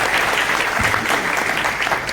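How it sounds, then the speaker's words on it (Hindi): A seminar audience bursts into loud, sustained applause, dense clapping filling the room steadily throughout with a faint murmur of the crowd beneath. "सर के लिए एक बार जोरदार तालियां बजा दीजिए।"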